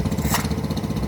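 A Homelite chainsaw engine sputters and runs roughly during a start attempt, with a steady, pulsing two-stroke buzz that stays loud and close.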